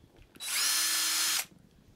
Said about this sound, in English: do some more drilling